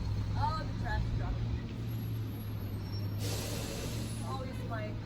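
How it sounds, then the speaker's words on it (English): Garbage truck with air brakes nearby, a sharp burst of air-brake hiss partway through, set over low idling engine rumble and scattered outdoor background sounds. "Oh, the trash truck."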